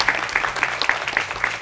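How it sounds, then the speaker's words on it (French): Brief applause from an audience at a youth event, a few quick clusters of hand claps in an irregular, moderately close patter with no voices. "Waouh, voilà, on peut applaudir. Ça s'applaudit."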